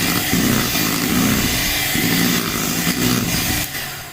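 An electric hand mixer beats eggs and flour into sponge cake batter. Its motor buzz is loud and close, steady with a slight wobble, and carries on continuously before easing off near the end.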